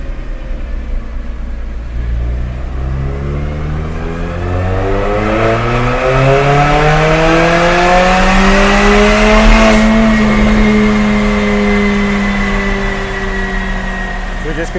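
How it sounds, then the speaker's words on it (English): A Mercedes-Benz CLA45 AMG with an Armytrix turbo-back exhaust revs up steadily through its range on a dyno, the exhaust note rising to a loud, sustained roar, then easing back. "So we just completed the test of the Armytrix turbo back exhaust."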